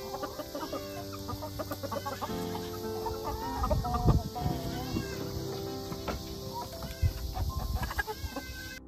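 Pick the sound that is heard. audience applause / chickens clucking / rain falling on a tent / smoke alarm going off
chickens clucking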